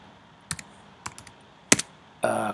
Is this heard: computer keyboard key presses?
yes